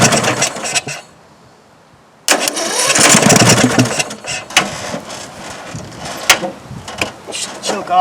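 A Murray lawn mower engine with wiring issues sputters briefly, drops to a silent pause, then fires and keeps running loud and close with a rough, uneven chug and mechanical clatter.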